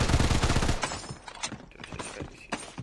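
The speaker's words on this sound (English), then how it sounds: "এটা গুলি চালাতেছে" Gunfire in the online shooter Blood Strike: a dense loud burst of automatic fire, then scattered sharper shots and mechanical weapon clicks at closer range.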